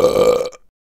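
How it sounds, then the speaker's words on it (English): A single loud, close burp from a person in a public place, lasting about half a second before cutting off to silence. "Did you burp?"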